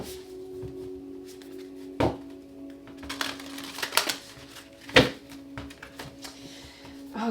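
Tarot cards being shuffled by hand, a few soft riffling and slapping bursts scattered among quieter handling noise, close and fairly faint over a steady low hum.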